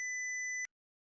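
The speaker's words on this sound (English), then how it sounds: "Whoa, Jessica, why are you beeping?" A single steady electronic beep tone coming through a video call from a participant's end, lasting about half a second and cutting off abruptly into silence.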